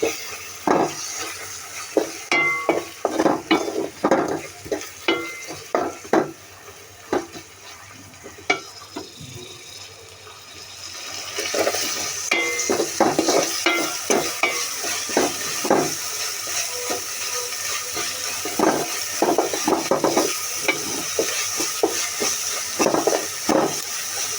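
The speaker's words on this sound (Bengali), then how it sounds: "একটু ভাজা ভাজা হোক।" Mutton biryani masala of black pepper, garlic, ginger, onion, salt, green chilli paste, coriander and cumin powder fries in a pan, with repeated scraping stirs and clinks over a steady sizzle that grows louder in the second half.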